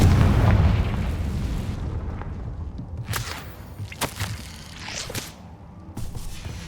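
The Confringo blasting spell in Hogwarts Legacy goes off with a loud booming explosion, followed by crackling debris and several sharp bursts as the blast fades.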